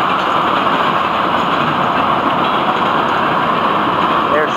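A freight train rolls past with a loud, steady rumble and continuous wheel clatter on the rails, an unbroken wash of sound close by.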